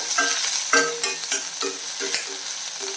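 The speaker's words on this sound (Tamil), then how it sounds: "பூண்டெல்லாம் நல்லா வதங்கிடுச்சு" Ginger, garlic and green chili sauté in hot oil over a low flame, a close, steady sizzle with small bursts as the pan is stirred, and faint tonal sounds underneath.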